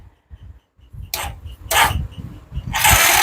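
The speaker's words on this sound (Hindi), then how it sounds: "तो चलिए सबसे पहले आपको स्टार्ट करते हैं।" Hero Glamour BS4 motorcycle kick-started, with a few mechanical clunks and sputters before the engine catches and settles into a loud, steady running roar.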